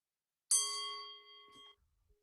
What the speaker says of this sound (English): every about 2 minutes, I will make use of a bell